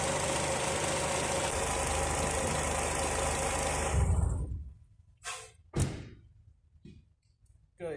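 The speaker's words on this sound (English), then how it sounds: "you can hear this power steering pump, it's noisy" A Mercedes W203 C180 with the M111 engine idles with a noisy power steering pump, a steady broadband whine and rumble close by, which then drops away and is followed by a few sharp thunks and knocks.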